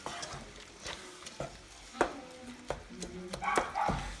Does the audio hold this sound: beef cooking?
yes